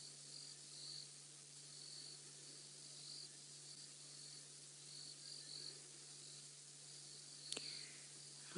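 A faint, continuous high-pitched trilling chorus of olive toads carries through a quiet evening on safari, with a steady low hum beneath and no talking.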